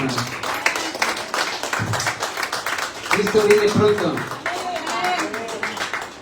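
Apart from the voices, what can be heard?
church congregation clapping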